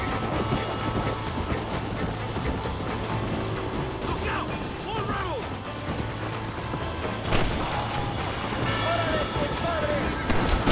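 A train rolls past in the game Red Dead Redemption with a steady rumbling, clattering roar, mechanical clanks and a sharp hit late on, heard close beneath faint talk.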